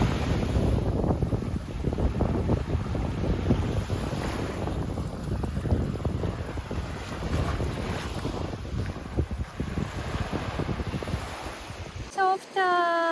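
Wind and surf on Golden Beach near Naoussa on Paros, Greece: a loud, steady roar of wind buffeting the microphone over breaking waves, continuous throughout before cutting out at the very end.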